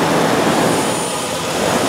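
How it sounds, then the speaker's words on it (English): A 2002 Ford Explorer with a 4.0L engine rumbles steadily and loudly during an EGR flow test, the idle sagging as if close to stalling. "You can hear the engine want to stall right there."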